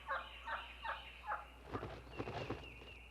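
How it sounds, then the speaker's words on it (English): A wild turkey flock in the woods gives assembly calls, a run of evenly spaced yelps followed by quicker clucking and gobbling notes, distant and faint against a low hum. "Assembly calls echo through the woods."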